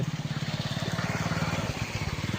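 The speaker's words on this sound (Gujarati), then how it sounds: "જો બાઇક પણ જાય છે।" A motorbike engine thrums close by, its rapid, even pulsing beat carrying steadily as it rides past.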